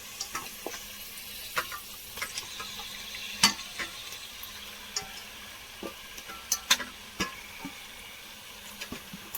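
Mutton cooking with turmeric and mint in a pan, a 1.5 kg batch: a low, steady sizzle broken by sharp scrapes and clicks as it is stirred and mixed. Close and fairly quiet, with no talking.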